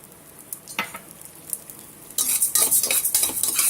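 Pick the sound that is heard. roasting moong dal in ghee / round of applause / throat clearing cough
roasting moong dal in ghee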